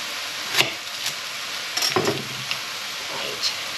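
Minced beef frying in a pan, a soft sizzle with wet hiss as water cooks out of the meat, broken by a few light scrapes and taps of a utensil stirring, close and fairly quiet.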